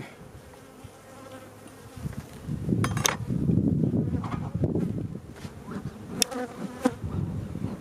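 Honey bees at a hive swarm close around the camera, a steady dense buzzing with several sharp ticks as individual bees strike the lens, no voices.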